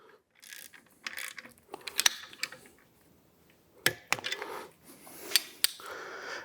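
A 15mm ratchet tightens a truck alternator bolt, giving close, crisp clicking bursts in short irregular runs separated by quiet pauses.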